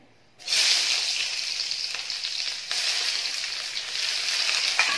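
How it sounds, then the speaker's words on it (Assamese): After a brief silence, hot oil in a wok bursts into a loud, close sizzle as mustard greens go in, hissing steadily and swelling once midway. "এয়া কেৰাহীত তেল গৰম হৈছে মই এতিয়া লাই শাক ভাজিম"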